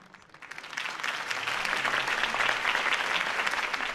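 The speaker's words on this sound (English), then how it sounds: "could have heard that applause" Crowd applause rises from near silence into steady, dense clapping that carries on through the clip, heard after a campaign speech in the video game Batman: The Telltale Series, Episode 1.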